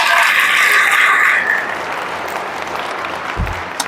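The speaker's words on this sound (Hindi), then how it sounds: "ताली तो बजाओ यार" Audience clapping at a church gathering, a loud dense burst of applause that fades after about a second and a half into a softer patter and room noise.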